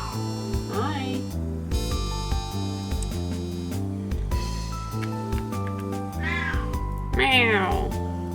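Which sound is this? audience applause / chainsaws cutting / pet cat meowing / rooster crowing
pet cat meowing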